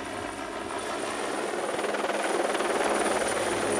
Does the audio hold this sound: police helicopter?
yes